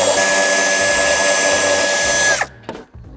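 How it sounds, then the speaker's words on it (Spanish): A power tool whines loudly and steadily while removing screws from a BMW X6 F16 tail light, its high motor pitch holding then dropping as it stops, followed by a brief quieter burst and handling clicks. "Quitamos también los tornillos del otro piloto."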